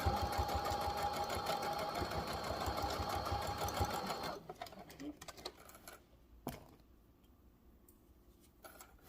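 A sewing machine runs a rapid, rhythmic stitch on fabric for a scrunchie keychain, forward and back, for about four seconds. It then stops, leaving quieter handling clicks and a sharp tap.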